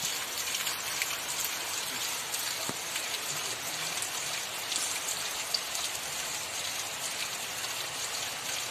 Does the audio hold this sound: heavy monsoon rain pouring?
yes